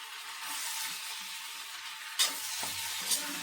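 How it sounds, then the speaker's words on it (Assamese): Meat frying in a kadai, a soft, even sizzle with a couple of brief clinks of a stirring utensil against the pan, fairly quiet and without voices. "মাংসখিনি যে একেবাৰে কেৰাহীত লাগি ধৰালৈকে আপোনালোকেও ভাজি ল'ব গাইজ"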